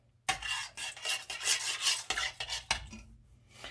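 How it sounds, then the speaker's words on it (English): A utensil stirs long grain white rice in a hot pan on the stovetop, making continuous close scraping and rustling sounds with a brief pause near the end. "I like to stir the rice because I don't want it to get stuck to the bottom of the pan"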